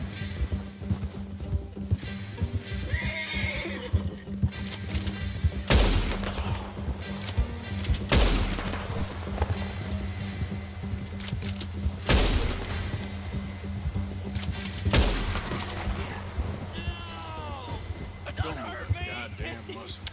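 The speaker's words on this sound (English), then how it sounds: "I guess I will have to shoot his horse so I can stop him" Gunshots in Red Dead Redemption 2: several loud, sharp cracks spaced a few seconds apart over the steady clip-clop of galloping horse hooves, with a horse whinnying and brief talk in between.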